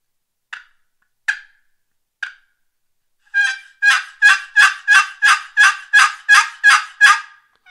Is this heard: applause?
no